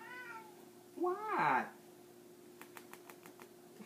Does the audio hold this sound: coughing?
no